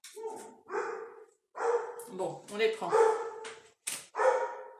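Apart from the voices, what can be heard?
dogs barking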